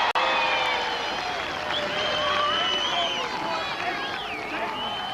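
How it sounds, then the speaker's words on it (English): A large outdoor crowd at a 1982 team game show contest between Cockermouth, Keswick and Maryport claps and cheers in a steady wash of noise, with high shouts and whistles rising above it. "give them some round applause"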